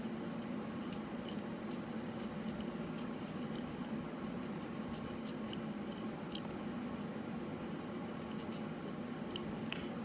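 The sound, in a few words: carving knife cutting a hole in a radish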